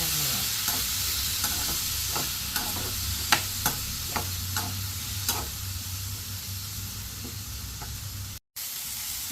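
Ridge gourd and tomatoes fry in a pan for a chutney, giving a steady sizzle close by. Sharp taps and scrapes from a stirring spoon break in at irregular intervals, and there is no talk.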